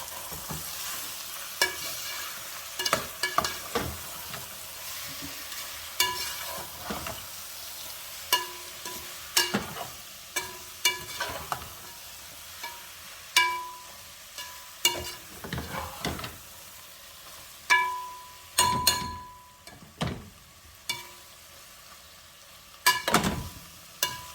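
Ackee and saltfish seasoned with black pepper and all-purpose seasoning being stirred in a pot: repeated scraping spoon strokes and soft clinks against the pot over a light sizzle, steady and close, with no talking.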